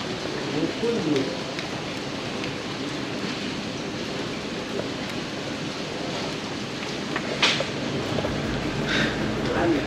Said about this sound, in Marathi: पाऊस सुद्धा रिमझिम आहे